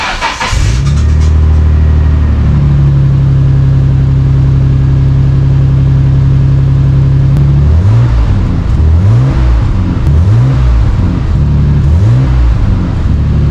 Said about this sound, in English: here is a clip with the original sound, I guess, of the exhaust from before